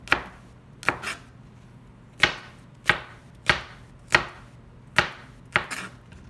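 Okra sliced thin with a knife on a cutting board, about ten crisp knife taps landing at an uneven rhythm, close and clear with no talk.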